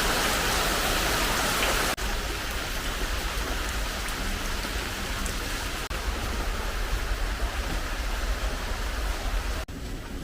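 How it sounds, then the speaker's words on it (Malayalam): Heavy, steady rain driven by wind pours down in a constant broadband roar, with a couple of brief dips in intensity and no voices. "കാറ്റും കൂടെ തുടങ്ങിയിട്ടുണ്ട് അതാണ് ഭീകരം മഴ"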